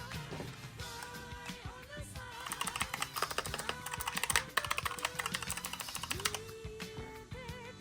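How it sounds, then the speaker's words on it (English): Rapid mechanical keyboard typing, a dense run of sharp clicky keystrokes, heard close up over a background of music with tonal lines. "this keyboard, oh, it sounds amazing compared to the Razer keyboard."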